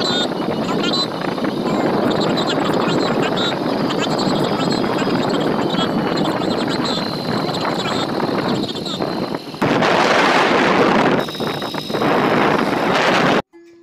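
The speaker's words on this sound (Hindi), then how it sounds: "और अभी हम बाइक पर जाएँगे" Loud, steady wind roar buffets the microphone while riding a motorbike on the road to a Shani Dev temple in Una, Himachal Pradesh, with a brief surge in the rushing noise near the end before it cuts off.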